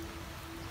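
Rain falls steadily outdoors at a laborer's work site, making a faint, even hiss with no speech and a thin hum running underneath.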